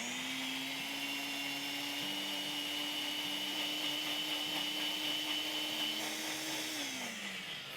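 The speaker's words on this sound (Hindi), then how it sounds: "आपके पास जो भी मशीन हो, ग्राइंडर वगैरह, उसमें आप ये कर सकते हैं" An electric kitchen grinder blends chutney for pakoras and samosas, giving a loud, steady motor whine that runs the whole time with slight pitch shifts. No one speaks.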